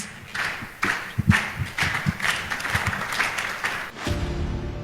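An audience at the FOA Film Festival 2021 and Disability Awards ceremony claps warmly in uneven waves that swell and fade over several seconds before stopping abruptly.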